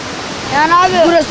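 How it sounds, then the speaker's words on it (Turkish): Muradiye Waterfall gives off a steady, broad rushing noise, heard under someone talking close by. "şelale müthiş akıyor"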